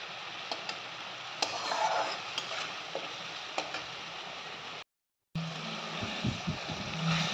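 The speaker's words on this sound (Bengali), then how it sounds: "দেখতেই পাচ্ছি ভালোভাবে মশলাটা কষিয়ে নিচ্ছি আমি কড়াইতে একসাথে মিক্স করে।" Spice paste is stir-fried in a kadai for prawn malai curry, giving a steady close sizzle with scattered scraping ticks from the stirring. There is a brief silent break before the frying resumes.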